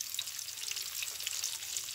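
Green and dried chillies with onion frying in hot oil, a close, continuous bright sizzle with faint crackles throughout.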